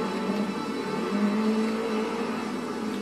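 A rally car in the Forza Horizon racing game drives off-road, drifting, its engine holding a steady droning tone with a slight rise in pitch, with no speech.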